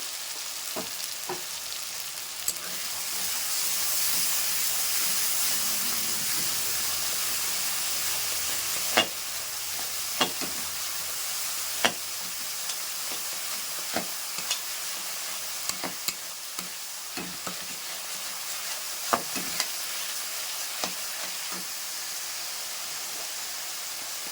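A paste of ginger, cumin, chilli, garlic and onion fries in a hot pan with a steady, close sizzle and hiss, dotted with sharp crackles and pops, and no voices.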